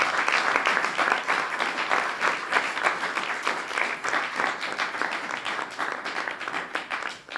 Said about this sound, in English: can we give a round of applause for Mayor Wu as well?